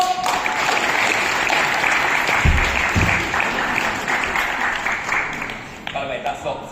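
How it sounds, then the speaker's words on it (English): A crowd at a kickboxing event claps in sustained applause that stays loud and even for most of the stretch, then thins out toward the end as a voice speaks over it. "Give me a round of applause!"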